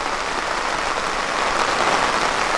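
Light drizzling rain blown by a fairly strong wind, a dense, even patter and hiss that holds steady and close throughout, with no voices.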